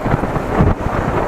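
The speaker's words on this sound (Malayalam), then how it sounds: "നല്ല കാറ്റ് വെച്ചിട്ടുണ്ട് കേട്ടോ." Strong wind buffets the microphone during a motorbike ride on a wide road near Aluva, a loud continuous roaring rumble with gusty swells and no talk.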